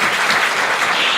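At a women's leadership forum, the audience breaks into loud, dense applause, a short burst of many hands clapping at once with no voices over it.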